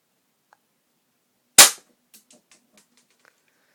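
A single loud, sharp crack from a replica Smith & Wesson pistol, followed by a few faint rattles and clicks as it settles, with no talking.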